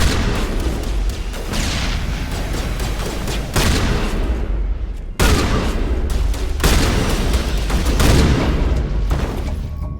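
Sustained heavy gunfire in a Mass Effect firefight, loud and dense bursts rolling continuously with brief breaks, booming low end and sharp crackling on top, no talk over it.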